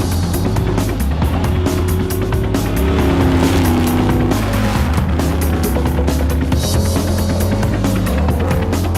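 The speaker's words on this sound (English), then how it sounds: "a rally car used for endurance events based on the Range Rover Sport." A Bowler Nemesis rally car built on a Range Rover Sport for endurance events roars under load with a continuous loud, throbbing engine drone, heard from close inside or near the vehicle.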